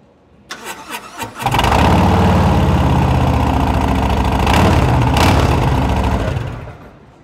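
A 2022 Harley-Davidson with a 107 engine and TAB Performance 4-inch mufflers cranks briefly, fires up and settles into a loud, deep, lumpy idle close by, running steadily for several seconds before shutting off.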